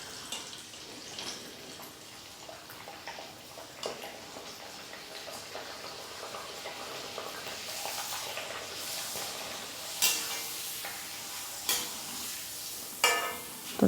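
Rice flour papad frying in hot oil in a kadhai, a steady crackling sizzle that builds through the middle and rises to louder bubbling bursts near the end, with no one talking.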